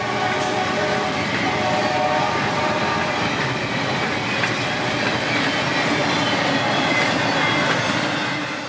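A northbound priority intermodal freight train rolls past at Hilliard on a Florida-Georgia mainline, a continuous loud roar of wheels and cars clattering by at close range for the whole stretch, with no talking.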